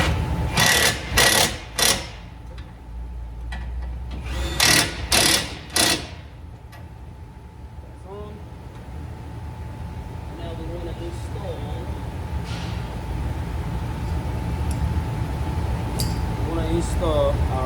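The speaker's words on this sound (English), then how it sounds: "I'm going to grab my impact." Impact wrench with a 21 mm socket driving brake caliper bolts on a Ford Transit, several loud sharp rattling bursts in quick groups near the start, followed by quieter workshop hum with someone talking.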